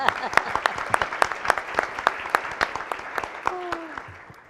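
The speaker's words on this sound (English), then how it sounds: "Let's give President Manchin a round of applause" A conference audience at an education summit in West Virginia gives a round of applause, with dense, close claps that continue steadily and fade near the end while a voice briefly speaks over them.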